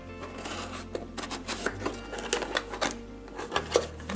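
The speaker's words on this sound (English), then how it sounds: "I'm going to open this one right here in front of you. Let's just rip this open." Close rustling, crinkling and tearing as a craft kit package is ripped open by hand, in uneven bursts with a low background hum.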